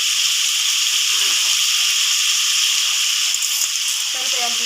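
Tomatoes fry with salt and turmeric in a pan for a masala vada curry, giving a steady close sizzle with soft crackles and faint stirring scrapes throughout.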